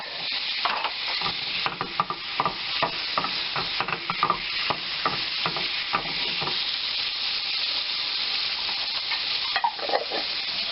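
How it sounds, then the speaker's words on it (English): Minced garlic sizzles steadily in a pan with butter and olive oil, a continuous close frying hiss broken by frequent scrapes and stirs throughout, with no talking. "And a clove of minced garlic."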